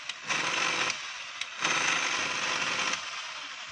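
A DeWalt jackhammer runs slowly on test, two sustained bursts of harsh motor noise separated by short pauses, fairly close and steady while running.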